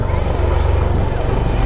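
A fighter helicopter passes overhead as a loud, steady low rotor-and-engine rumble that fills the whole moment, with faint voices in the background.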